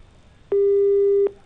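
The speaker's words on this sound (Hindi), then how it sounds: "बार बार फोन कट कर रहे हैं।" A single steady busy tone from a disconnected phone call, one clear beep about three quarters of a second long, loud and alone, no voices.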